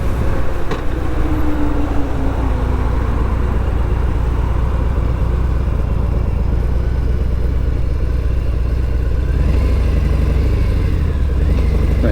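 A motorcycle engine rumbles loudly and steadily close by while riding in and lets out a brief rising rev near the end.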